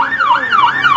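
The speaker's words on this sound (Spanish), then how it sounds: "tanto de paramédicos, ahí vemos una ambulancia también" An ambulance siren wails at close range during the Vuelta Ciclística de Guatemala road cycling race in Quetzaltenango, sweeping up and down in a fast, loud, steady cycle with no voices over it.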